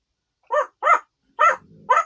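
A pet bird mimics a dog, giving four short bark-like calls in an uneven rhythm, close and fairly loud, with a faint low rustle between the last two.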